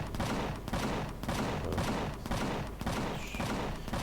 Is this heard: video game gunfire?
yes